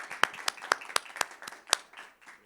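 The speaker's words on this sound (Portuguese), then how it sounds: "Palmas para o Carlos Marcelo" A small auditorium audience claps for a journalist and writer coming on stage at a book fair, with sparse, uneven individual claps over about two seconds that thin out, fairly quiet and with no talking.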